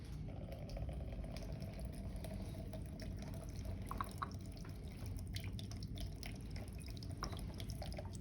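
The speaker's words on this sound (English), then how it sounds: "sand and gravel have already started dripping" Water drips through sand and gravel in an infiltration experiment, a very quiet trickle with scattered faint drips over a low, steady background.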